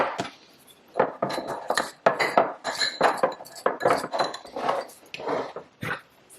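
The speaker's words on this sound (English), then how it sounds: "all I'm going to do is just kind of cream that butter and sweetener together" A fork works butter and sweetener together in a small container, giving a steady run of quick scraping clinks and taps against the sides, close and fairly loud, with no talking.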